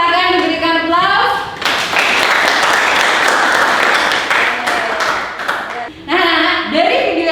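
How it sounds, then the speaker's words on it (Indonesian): Classmates break into brief, dense hand clapping in a classroom after a student's answer. The applause is loud and close, and a voice speaks just before and after it. "Bagus sekali jawaban dari Dita, silakan diberikan aplaus"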